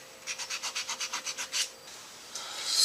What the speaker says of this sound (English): Now I'm trying to get all the tool marks out. So I'm going to polish back up.